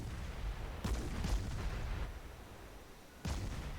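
Naval guns firing in World of Warships, three heavy booming salvos: two close together near the start and another after a lull, each with a rumbling tail over steady low battle noise.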